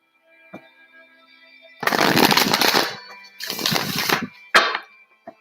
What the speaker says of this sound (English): people will listen to the card shuffling